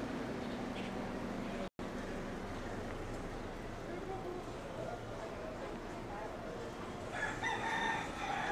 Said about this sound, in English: Hello, Mr. Rooster.